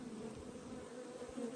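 Honey bees buzz beside beehives in a steady, soft, continuous drone that stays faint and close, with no voices.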